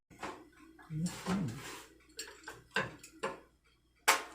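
A spoon scrapes and clinks against a dish of baked mac and cheese in a string of short, uneven scoops. The clatter is close and moderately loud, with a sharper knock at the end and a voice speaking in between.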